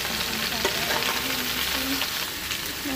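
Bori, small lentil dumplings, fry in oil in a pan with a steady, close sizzle, with occasional scraping stirs over the continuous crackle.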